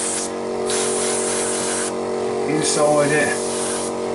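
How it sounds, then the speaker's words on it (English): Spray painting black weathering onto a model railway engine: bursts of airbrush or aerosol hiss start and stop several times, close and loud, with a person talking between sprays. "I've been spraying a lot of black in this."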